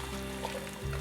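Chopped onions, carrot and celery fry in a pan for a beef casserole, a soft, steady hiss over a low background hum, brief and faint.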